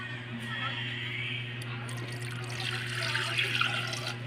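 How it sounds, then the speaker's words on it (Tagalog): A glass of water poured into a cooking pot in an outdoor catch-and-cook setting, a steady running splash that holds across the whole clip over a constant low hum. "nilalagyan ng isang basong tubig"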